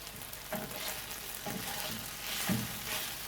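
Noodles cook in a pan with a soft, steady frying hiss, broken by a few light stirring knocks.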